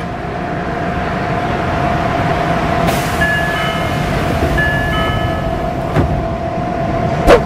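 Steady train-interior hum of a KRL commuter train with a constant tone, brief chime-like beeps and clunks around the doors closing, no talk.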